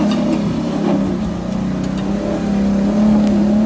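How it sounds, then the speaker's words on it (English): Jeep climbing a rock obstacle at Sand Hallow, its engine droning loud and steady under load with slight revving rises, close by. "This is an obstacle called You Gotta Be Nuts, and Bob drove right up through it"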